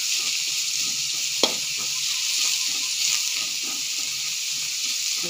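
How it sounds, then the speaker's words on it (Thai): Pork stir-fried in a hot pan until cooked, with a steady, loud sizzle and hiss, a sharp clink of the utensil against the pan, and no talking. "อันนี้เอาหมูลงไปคั่วให้มันสุก"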